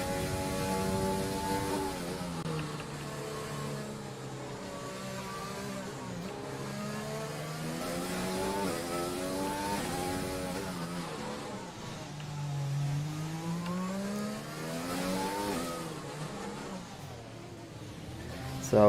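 A race car engine in a racing video game screams through a flying lap of Monaco, its pitch sweeping up and down through gears and corners, loud and continuous with a voice talking underneath.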